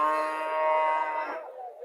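A Haryana breed heifer calf gives one loud, close moo that holds steady before trailing off, heard alone.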